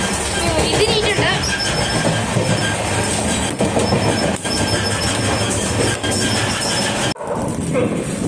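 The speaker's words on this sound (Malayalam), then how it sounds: "നമ്മുടെ ട്രെയിൻ തൃശ്ശൂരിൽ നിന്ന് പുറപ്പെട്ടിട്ടുണ്ട്" Poorna Express sleeper coach on the Ernakulam–Pune run, hauled by a WDP 4D diesel locomotive, heard from inside: loud continuous rumble and wheel clatter on the rails with brief dips, steady throughout.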